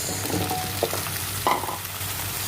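Oxtail and vegetables such as onion frying in a pan for Chinese braised oxtail, a steady sizzle with a few stirring scrapes and clacks, no voices.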